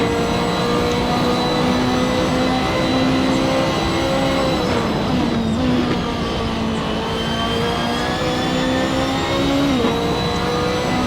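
Racing cars in a video game lap the Macau street circuit, a loud sustained engine whine holding steady pitch with brief dips as gears shift, several cars droning together without pause and no talking.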